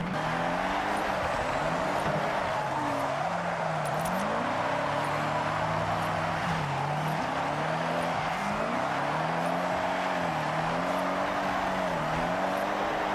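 A Toyota GR GT sports car drives in the Forza Horizon 6 racing game, its engine note rising and falling steadily through gear changes with a constant hiss of road noise, loud and close with no talking.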